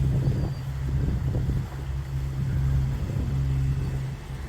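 A boat motoring on only its starboard engine, sails down against a light headwind near Rhodes, gives a steady low engine drone with wind buffeting the microphone and a faint wash of water throughout.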